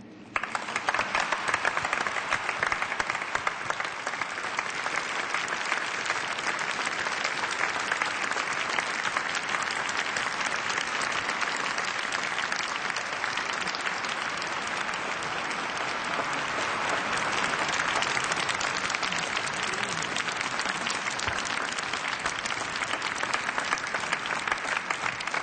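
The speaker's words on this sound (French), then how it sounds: "Je vous invite à les applaudir." A large audience at an evening testimony event applauds with dense, sustained clapping that stays loud and even for about twenty-five seconds.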